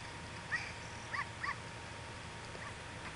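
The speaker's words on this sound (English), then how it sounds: "Now it's nighttime and dogs will follow me every single place I go." Dogs in Zelda: Ocarina of Time following the player at night, giving a few faint short yips and whimpers over quiet game background ambience.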